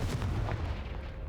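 A Confringo blasting spell fired in Hogwarts Legacy erupts as a loud, close explosive boom, a single heavy blast with a rumbling low-end decay lasting about a second, with no voices.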